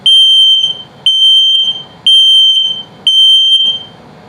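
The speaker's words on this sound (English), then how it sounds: "if this beeps very slowly, it's telling you your battery's low" Shrill electronic beeps from the LP/CO detector in a 2022 XLR Boost 25LRLE RV signalling a low battery, four loud sustained tones repeating at about one-second intervals, close and alone.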